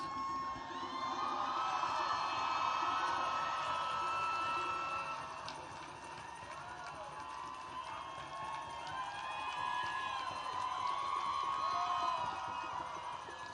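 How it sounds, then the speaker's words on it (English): A crowd at an outdoor pro-choice abortion rights rally applauds and cheers, a sustained wash of clapping and shouts rising and falling with no break. "Give a big round of applause for Patrice."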